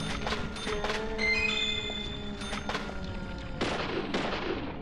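Gunshots in the video game Deadly Premonition, a series of sharp cracks, some close together and some spaced apart, ringing with metallic tails over a low ambient hum and no talking.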